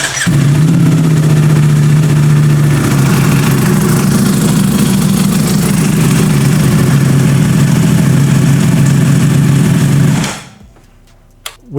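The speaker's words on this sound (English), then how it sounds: "We did start the bike to let the oil pump run that oil through the engine." A Ducati SP2 motorcycle engine idles steadily and loudly up close, a constant low drone with mechanical clatter, before it cuts off near the end and leaves near silence.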